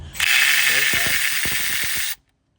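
A ratchet turns an 8mm bolt on a 2013 Mazda 3 engine, giving a short run of clicking pawl strokes under a steady loud hiss.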